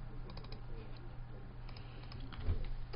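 A computer keyboard is typed on in quick, light clicks while a file name is entered. The clicking is faint and close, over a steady low hum from the room.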